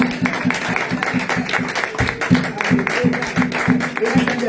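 A church congregation applauds in steady rhythmic claps, loud and close, with a low musical pulse and voices mixed underneath.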